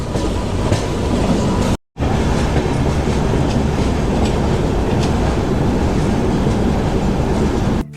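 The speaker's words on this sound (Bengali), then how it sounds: "প্ল্যাটফর্মে এখন ট্রেন ঢুকছে।" Samaleswari Express (18005, Howrah to Jharsuguda) pulling into a station platform, a loud steady rumble of wheels and carriages with faint clatter, close by, broken by a brief cut near two seconds, no voices.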